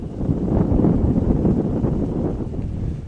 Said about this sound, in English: You can hear the gusts of wind coming in on our audio.